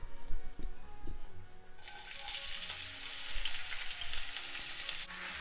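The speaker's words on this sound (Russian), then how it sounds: "На плите сковорода с маслом. Масла столько, чтобы покрыть дно сковородки. Отправляем на сковороду лук." Quiet clinks, then onions hit hot oil in a pan and a loud, steady sizzle of frying takes over.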